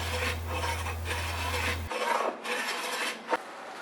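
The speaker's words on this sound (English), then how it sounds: "ease the edges with a block plane" A block plane shaves along the edge of an end grain cutting board in a few rasping strokes, close up, with a low hum cutting out partway.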